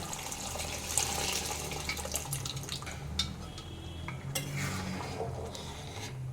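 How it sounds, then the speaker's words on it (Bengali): Water pours into a pot of ghugni, a Kolkata-style curry of dried peas, making a steady close splashing and trickling with a few light clinks from the pan. "আমি অ্যাড করে দিচ্ছি জল।"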